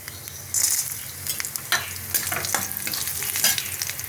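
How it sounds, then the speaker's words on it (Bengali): Black cumin seeds, dried red chillies and sun-dried lentil bori hit hot oil, crackling in a steady broadband sizzle with sharp spattering pops and occasional stirring scrapes, close and alone without talk. "তেলটা গরম হয়ে গেছে, এখন এর মধ্যে আমি দেবো কালো জিরে দেবো, শুকনো লঙ্কা দেবো বড়িগুলো"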